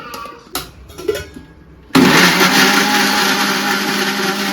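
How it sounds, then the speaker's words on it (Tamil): After a few light knocks and clinks, a mixer grinder roars to life with a loud, steady, gritty whir that continues to the end. "எல்லாத்தையும் போட்டு மிக்சியில் போட்டு அடிச்சிடலாம்"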